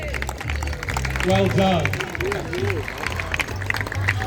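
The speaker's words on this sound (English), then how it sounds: "Big round of applause" Crowd applause at the Ellingham Show carriage driving event in 2024, steady outdoor clapping running under someone speaking over a public address and a horse-drawn entry leaving the ring.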